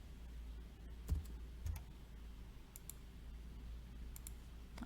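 Quiet computer keyboard typing while entering data in Excel: a few sparse clicks and key taps over a low steady hum, faint and close, with no speech.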